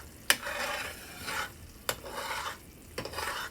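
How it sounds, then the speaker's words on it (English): Gravy for smothered pork chops is stirred in a skillet: three distinct scraping strokes, each opening with a sharp clink of the utensil against the pan and trailing into a soft sizzle, close and fairly quiet with no talking. "just keep stirring because, you know, the parts on the bottom of the skillet, you want that to be incorporated in there"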